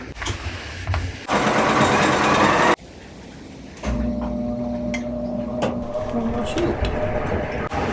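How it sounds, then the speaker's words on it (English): A home sewing machine with no bobbin loaded stitches fabric triangles onto a quilted Christmas stocking star block, running in loud bursts of rapid mechanical whirring and clatter with short pauses between runs of stitching. "So I'm going to sew 1 on either side, and then I will sew 1 on the other 2 sides."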